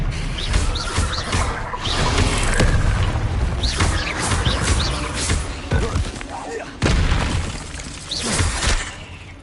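Spell blasts and explosions in the video game Hogwarts Legacy, a rapid series of sharp booms and crackling impacts over about nine seconds, with a voice calling out during the action.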